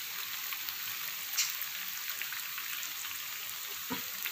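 Rempeyek, Indonesian crackers, fry in hot oil with a steady, close hiss and crackle, dense bubbling sizzle throughout and a few small pops.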